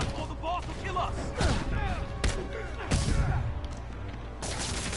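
Explosions and bursts of gunfire in a Spider-Man video game on ultimate difficulty, with booming blasts and rattling fusillades in a loud, busy combat mix.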